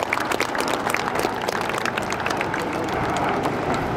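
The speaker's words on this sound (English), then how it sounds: "Let's have a cheer and a round of applause to fly the shuttle roll." Outdoor crowd cheering and clapping at the Red Arrows display at Portrush Airshow, a dense, steady wash of applause with scattered shouts, fairly near and continuous throughout.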